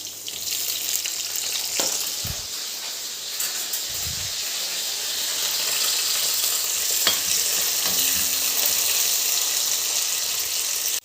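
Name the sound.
frying ginger, garlic, green chillies and curry leaves in oil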